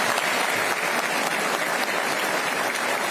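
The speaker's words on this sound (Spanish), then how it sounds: "le decimos gracias y le aplaudimos" Steady, dense applause fills a congressional chamber, many hands clapping continuously at an even, loud level.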